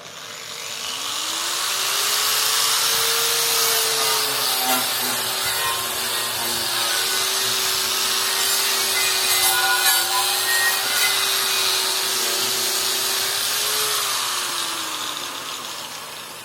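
An angle grinder running off a 1000 W inverter, a loud steady whine that spins up, holds for about twelve seconds with slight wavering in pitch, then winds down, close with no talk.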